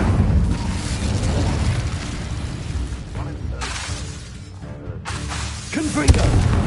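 An Incendio fire spell cast in Hogwarts Legacy on PS5 bursts with a loud roaring, crackling blast that fades and then flares again, mixed with game combat noise.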